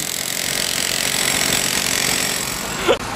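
A power drill grinds steadily through pavement during sidewalk renovation, a continuous loud buzzing roar that holds without pause and cuts out abruptly near the end.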